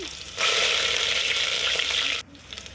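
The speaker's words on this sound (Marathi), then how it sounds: "आता त्यामध्ये दोन कट केलेल्या मिरच्या घातल्या त्यानंतर कढीपत्ता" Cut green chillies and curry leaves dropped into hot oil with mustard and cumin seeds burst into a loud, dense sizzle that holds steady for about two seconds, then cuts off sharply to quiet.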